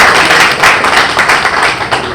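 An audience claps at an official gathering in Timbuktu where the governor visits football players before a match. The applause is loud, dense and continuous, with no voice over it.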